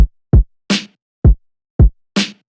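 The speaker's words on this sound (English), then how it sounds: "the kick and the snare together sound like this" Boom bap kick and snare drums alternate alone in a steady pattern: deep, punchy kick hits and bright, crisp snare cracks, with two kicks between snares, loud and close.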